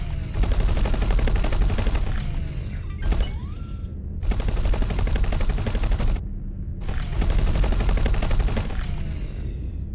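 Ship guns blazing in the space game X4: Foundations, dense rapid bursts of automatic fire in three long volleys separated by brief pauses, loud and continuous with no talking.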